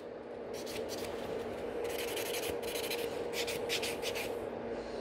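Gel nail tip free edge being filed and shaped into a short almond form at a salon, heard as quick, close rasping strokes in uneven bursts over a steady background hum.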